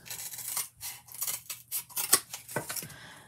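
Scissors cut through corrugated cardboard in a quick run of crisp, rasping snips and crunches, close by and with no talking.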